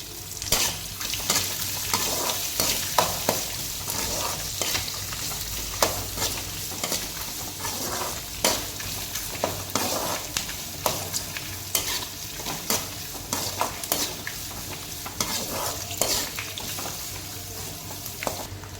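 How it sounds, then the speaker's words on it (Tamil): Chopped onions sauté in a pan for a Tamil fish kulambu, with a steady close sizzle and frequent stirring and scraping clicks of a utensil against the pan throughout. "நல்லா வதக்கி எடுத்துக்கோங்க."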